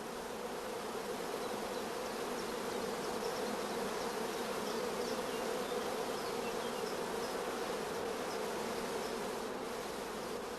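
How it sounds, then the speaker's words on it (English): Honeybees crowd thickly around queen rearing cells on a hive frame, giving a dense, steady buzzing hum that holds at an even level from start to finish, with no voices. "Bees crowding thickly around the cells is a first positive sign of good acceptance."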